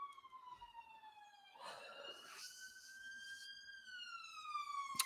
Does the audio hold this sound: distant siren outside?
yes